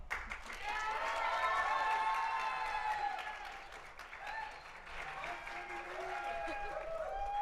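A Gen Con 2019 crowd at a live Rat Queens tabletop role-playing game session claps to vote. The applause is sustained and mixed with cheers and whoops, and it fills the hall for several seconds.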